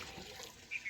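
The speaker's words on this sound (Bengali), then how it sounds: "আমি টকার মধ্যেই চাল দিয়ে দেখুন এইভাবে জল ঢেলে নিচ্ছি" Water poured over rice soaking in a tank gives a soft, steady rushing splash, close and continuous for about a second without voices.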